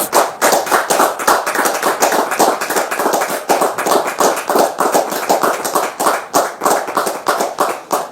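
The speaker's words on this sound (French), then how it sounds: "Merci de la recevoir sous vos applaudissements" A TV studio audience applauds steadily, dense crowd clapping loud and continuous throughout with no speech over it.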